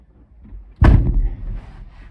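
The driver climbs into a Mitsubishi Mini Cab truck and slams the door, one loud close thump in an otherwise quiet cab.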